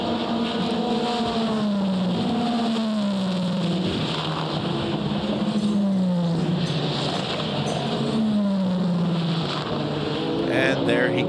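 Race cars at the 24 Hours of Le Mans passing under the Dunlop Bridge and through the Dunlop S's, engines rising and falling in pitch as several cars sweep by one after another beneath continuous commentary and crowd noise.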